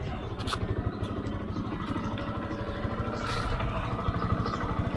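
A Yamaha R15 version 1 motorcycle engine runs with a steady low throbbing pulse, moderately loud and continuous, with faint road and wind noise over it.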